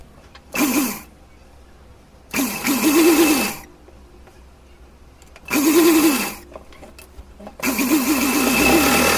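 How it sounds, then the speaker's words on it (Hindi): Sewing machine stitching overlapped fabric seams on a small deity dress, running in four separate loud bursts with short quiet gaps between them. "इसको यहाँ से ये सिलाई लगा करके ओवरलैप करके ये सिलाई लगा देंगे"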